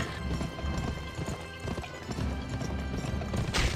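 Horse hooves clip-clop steadily in a western shooting video game, loud and continuous amid dense game ambience, with a brief whinny and scattered background effects mixed in.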